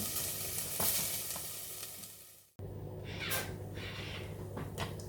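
Small onions fry in a pan with a close, steady sizzle, broken by a brief stir partway through before the frying hiss resumes at a similar level, with no talking.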